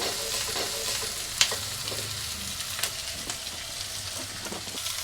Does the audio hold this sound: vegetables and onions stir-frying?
yes